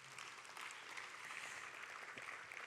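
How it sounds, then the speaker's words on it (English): A conference audience at an opening plenary session applauds, a steady, dense wash of clapping that holds at an even level from start to finish with no voices above it. "So a round of applause for yourselves."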